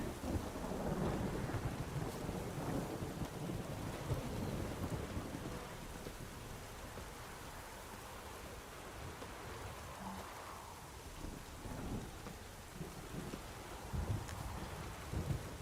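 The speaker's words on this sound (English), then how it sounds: "It being a dark and stormy night." A thunderstorm in The Witcher video game brings steady rain with deep rolling thunder. A heavier rumble at the start fades into continuous patter and distant low booms, with no talking.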